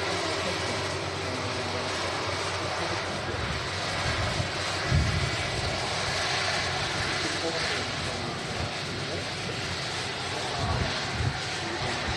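At Manchester Airport, an airplane engine roars as a broad, steady rumble and whine that swells briefly at times, with people talking over it.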